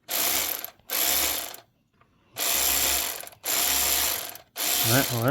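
A cordless battery ratchet spins a bolt out during a thermostat change on a 2020 Hyundai Palisade, in five close, loud buzzing bursts with brief gaps between them.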